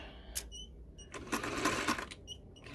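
A sewing machine back-stitching an underarm gusset seam on a garment, giving a couple of short, close whirring bursts separated by brief pauses and faint clicks.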